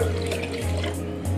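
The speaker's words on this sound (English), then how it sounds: "Just put some water in there." Water pours steadily into a cooking pot for semi-cooking rice, a continuous close rushing sound with a low steady hum underneath.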